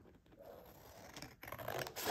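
Fabric being trimmed with scissors while making a bohemian patchwork journal cover, heard as close, quiet snipping and scratchy cutting that swells louder toward the end.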